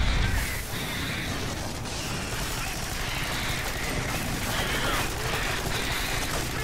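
Video game gunfire in Alien Swarm, a dense continuous fusillade of shots and bursts with booming impacts, held at a steady loud level throughout, with players talking over it.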